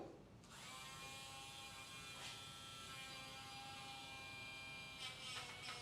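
A Dremel rotary tool grinds a doodle dog's nails, giving a steady, faint, high electric hum that runs throughout with slight changes in its tone.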